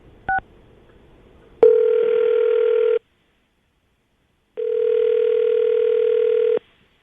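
A telephone call being placed for a radio phone segment: a quick pair of dialing beeps, then two long, steady ringback tones separated by a silent gap, clear and close with no voices.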